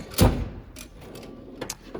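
A mechanic's toolbox drawer slides shut with one firm thud close by, followed by faint clinks and rattles of metal tools settling inside.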